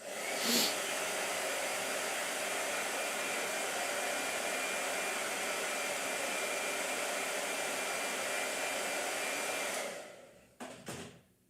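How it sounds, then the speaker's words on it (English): A hair dryer blows steadily and loudly for about ten seconds while drying watercolor paper, then cuts off, leaving a few faint handling noises. "Blow dryer."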